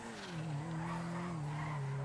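A car drifts in GTA 5, its engine holding a steady high rev while tires squeal in a sustained, fairly quiet slide, with no voices over it.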